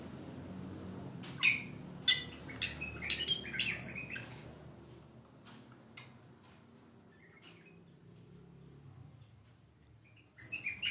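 Birds in a backyard aviary housing Bali myna and forest quail give a quick burst of squawks and sharp chirps, then fall quiet over soft background noise before another loud call near the end.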